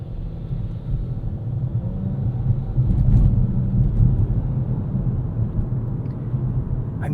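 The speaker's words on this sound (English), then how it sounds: "The road noise in this car is shocking." Deep, rumbling road noise fills the cabin of a 2025 Nissan Kicks SR cruising at 40 mph, a steady low drone that swells around the middle and carries thumps from potholes, with no voices over it.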